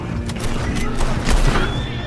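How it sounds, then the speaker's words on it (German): Gunfire striking a horse in the video game Red Dead Redemption 2, a dense burst of loud shots and impacts filling the short stretch, with faint game sounds and no voices. "Oh nein, voll das Pferd geschossen."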